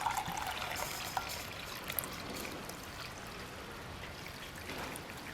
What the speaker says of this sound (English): So let's pour it in our measuring cup.